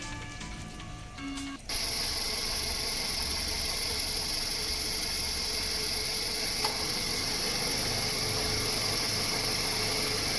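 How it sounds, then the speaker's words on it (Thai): A Toyota Wish's engine idling with its air-conditioning compressor running: a steady, constant mechanical hum and hiss, smooth and even throughout after a brief quieter start. "เสียงเครื่องยนต์เสียงคอมแอร์ทำงานได้เงียบนะฮะ"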